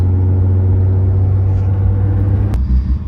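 A warmed-up Nissan R32 GTR engine idles steadily with a loud, close, low rumble, and a sharp click breaks through near the end.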